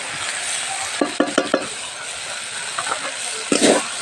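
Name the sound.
taro flowers frying with cumin powder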